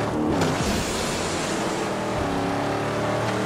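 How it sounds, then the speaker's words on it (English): A loud car engine roars steadily and close in the Mad Max video game, a continuous dense drone that holds at full level for the whole stretch. "it's so much better just listening to the fucking loud engine instead of the fucking storm"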